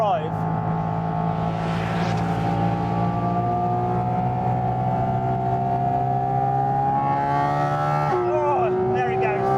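A Porsche 718 Cayman GT4 RS mid-engined sports car with PDK gearbox is driven hard on road, its engine holding a loud, sustained high-pitched wail that climbs steadily, then drops abruptly at a shift before rising again.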